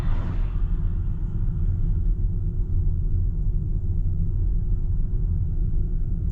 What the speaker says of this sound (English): Stuck behind a truck going about 2 kilometers an hour.